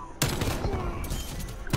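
AK rifle fire in a first-person shooter game, a rapid, dense burst of close, loud shots beginning abruptly and running nearly the whole moment.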